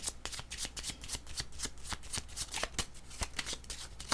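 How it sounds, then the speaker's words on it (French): Tarot cards are shuffled by hand in a steady run of rapid, close riffling snaps that keep going throughout, with no voice over them. "Je vais demander une carte pour lui ici."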